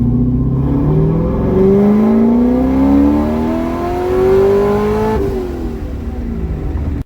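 A supercharged C6 Corvette engine with headers and a tune revs under boost, its loud, steady drone rising in pitch across the mid to upper RPM range, then dropping briefly before climbing again, heard up close with no talk.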